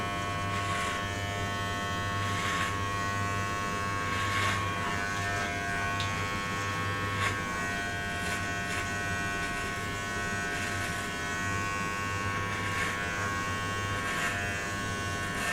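Electric hair clippers buzz steadily up close while shaving a head at home, a constant motorized hum that shifts slightly in tone as they move, with no talking.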